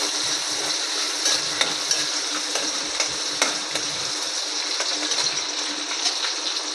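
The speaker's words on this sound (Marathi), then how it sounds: "चांगलं परतून घेऊया तेलात." Garlic, curry leaves and tomato sauté in hot oil for a jackfruit-seed curry, a steady bright sizzle with scattered scrapes and clicks of a stirring spoon against the pan.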